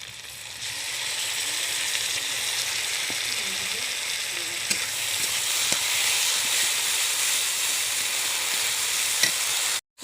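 Ground spice paste frying in a pan for a silver carp fish curry, a dense steady sizzle and hiss that swells slightly midway, with faint stirring knocks, cutting off abruptly at the end.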